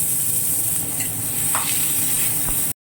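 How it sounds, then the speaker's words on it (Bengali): Chopped onions fry in hot oil with a steady, close sizzling hiss, broken by a few soft scrapes of stirring. "এরপর ওই তেলেই কুচি করে রাখা পেঁয়াজগুলো দিয়ে দিতে হবে হালকা করে ফ্রাই করার জন্য"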